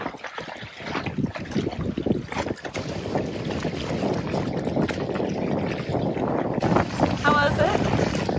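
Steady wind gusting across an open lakeshore at Thingvellir National Park in Iceland, a continuous broadband rush with microphone buffeting and voices talking over it.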